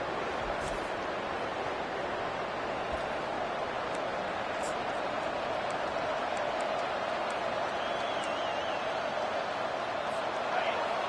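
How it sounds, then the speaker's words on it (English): Steady, dense crowd roar fills a college football stadium during a Wisconsin vs. Rutgers game, a continuous wash of cheering at constant loudness with no pauses. "The roar of the crowd trying to fuel this defense to keep them pinned in their own end"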